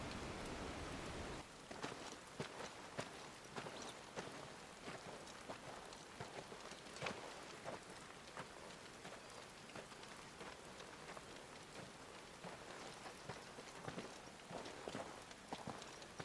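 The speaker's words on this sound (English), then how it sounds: "Wow, it's raining and everything." Soft, steady rainfall in Final Fantasy XVI, a dense patter of drops striking surfaces with scattered sharper taps, quiet and continuous with no voices.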